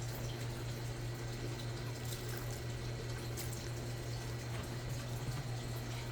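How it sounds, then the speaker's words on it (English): Tap water runs steadily while fingers are rinsed, a continuous close splashing flow with an even hum underneath and no break. "Let me just rinse my fingers here a little bit."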